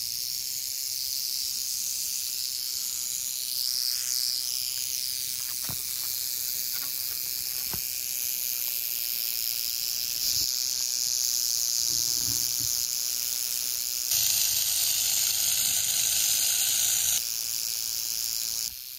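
A rattlesnake buzzes its tail rattle continuously, a loud close high-pitched hiss that surges stronger for a few seconds near the end, with no talk.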